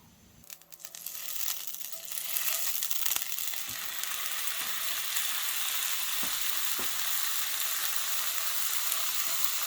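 Moose steak seasoned with Cabela's wild game seasoning frying in a pan, a bright sizzle that swells within the first couple of seconds then holds steady and loud, with a few faint clicks and knocks.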